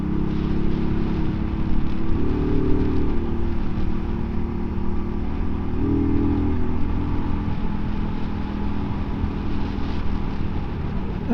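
A 2024 Mutt DRK 250cc motorcycle hums along a country road, its engine droning continuously with slight rises in pitch, heard from the rider's position amid steady wind noise.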